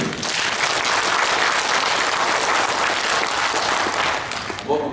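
Dense, sustained applause from a large audience at a keynote speech, loud and even throughout with no break.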